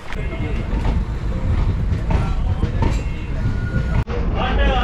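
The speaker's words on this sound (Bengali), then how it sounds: "8টা 20-তে আমাদের ট্রেন জঙ্গিপুর স্টেশন থেকে ছাড়লো" The Teesta Torsa Express pulls out of Jangipur Road station, its loud rumble and rattling carriages rolling continuously with rhythmic clatter, cut by one sharp bump near the end.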